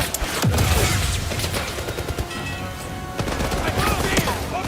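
Dense gunfire fills a firefight in the spy video game 007 First Light: sharp, loud repeated shots crackle throughout in uneven bursts, with a few heavier booms.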